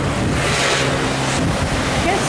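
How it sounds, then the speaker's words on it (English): Fierce ocean waves crash and wash onto a beach in York, Maine, a loud, continuous roar of surf close by with strong wind buffeting the microphone throughout. "I guess the ocean is kind of fierce here."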